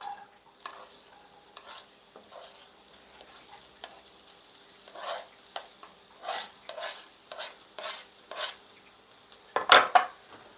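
Onions added all at once to hot oil in a pan over low heat, then stirred: soft, intermittent sizzling and scraping strokes that build toward a brief, louder clatter of utensil against the pan near the end.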